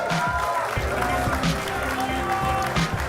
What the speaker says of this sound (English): Ladies and gentlemen, a round of applause for Steroidy69.